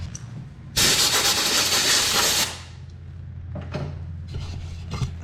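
A loud burst of compressed air blasts debris off the drain plug of an Ariens Zoom 54 XL snow blower for about two seconds, followed by quieter hissy puffs and handling noise.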